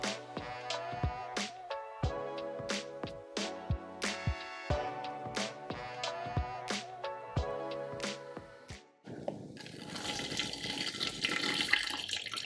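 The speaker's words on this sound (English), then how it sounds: "We're going to fill this bag with some water" Tap water rushes into a plastic bag for the final few seconds, a steady splashing hiss that follows a run of rhythmic knocking and clattering sounds.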